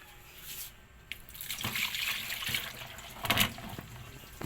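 Salted soaking water pours and drains off sliced potatoes into a sink, splashing in uneven bursts with a few drips, close and moderately loud.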